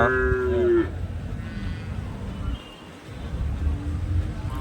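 Punganur cattle calves at a livestock market, with one loud, close, drawn-out moo at the start and a fainter low lowing later, over windy outdoor background noise and a faint voice.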